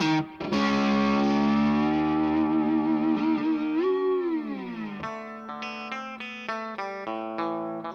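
Electric guitar played through a VOX AC15 or AC30 combo amplifier, sustained chords with wavering chorus-like modulation and bends, then a sequence of shorter ringing notes, steady and close with no talk.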